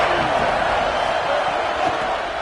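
A packed stadium crowd at a college football game between Texas A&M and Oklahoma roars loudly and continuously, a dense wall of cheering and shouting with no break.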